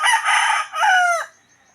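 Rooster crowing among chickens on a farm with young chicks, two loud close crows in quick succession fading into quiet.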